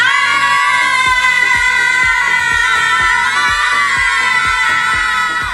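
A team of elementary-age children at a summer Bible school roars a long, loud, sustained cheer in unison, a dense wall of young voices with steady rhythmic thumping beneath.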